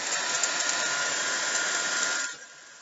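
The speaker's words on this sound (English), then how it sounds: "As I turned on the hairdryer, the air was pushing out through the hairdryer" A hair dryer blows air in a steady, loud broadband rush for over two seconds, then switches off and the sound drops away to near silence.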